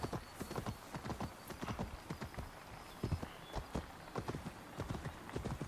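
Horse hooves clip-clop in a steady galloping rhythm as a mount runs in Assassin's Creed Valhalla, close and fairly loud, with a brief whinny and game ambience behind it.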